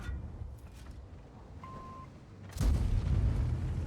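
A tank cannon fires once in the World of Tanks video game, a single loud boom that rolls into a rumbling tail, with quieter game noise before it.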